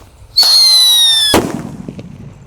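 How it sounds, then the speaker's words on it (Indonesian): A paper-wrapped pearl thunder firecracker whistles with a high, bright, falling tone for about a second, then bursts in one sharp, loud bang that trails off into a short rumble. "ini pearl thunder yang dibuntel dengan kertas, langsung kita nyalakan bosku"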